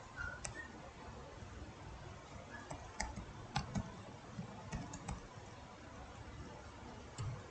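Typing on a computer keyboard, with quiet scattered key clicks in an uneven rhythm over a steady low hiss, close but faint throughout.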